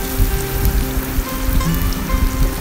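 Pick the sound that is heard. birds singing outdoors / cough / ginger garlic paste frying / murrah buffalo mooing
ginger garlic paste frying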